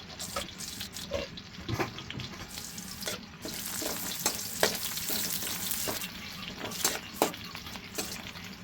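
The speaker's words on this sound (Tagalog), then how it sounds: "Tayo nating mag-brown yung sibuyas." Onions browning in a pan for frog adobo, with a steady frying sizzle broken by repeated sharp stirring scrapes and clatters, close and fairly loud with no talking.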